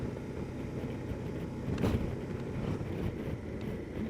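Strong, turbulent wind buffets the microphone while riding a KTM 1290 Adventure S motorcycle, a steady low roar with a gusty swell near the two-second mark and no speech.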